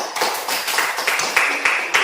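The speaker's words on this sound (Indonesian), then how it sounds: "Iya, tepuk tangan semuanya." A classroom group applauds after an answer during an academic coaching session, a short burst of brisk, uneven clapping that swells and dips in waves, close and moderately loud.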